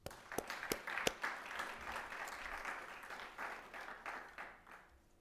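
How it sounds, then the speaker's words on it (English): Audience applause at an oratorical competition, a steady wash of many hands clapping with a few sharp nearby claps at the start, moderately loud and continuing for several seconds without talk. "Give them a round of applause."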